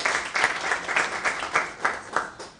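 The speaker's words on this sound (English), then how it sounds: "A round of applause, ladies and gentlemen." Hands clap in a rhythmic, evenly spaced beat at a youth resilience event, the claps sharp and fairly close rather than a dense crowd roar, with no one talking over them.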